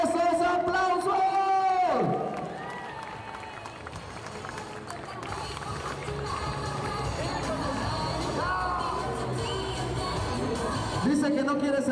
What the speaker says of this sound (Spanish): ¡Esos gritos y aplausos! ¡Más fuerte!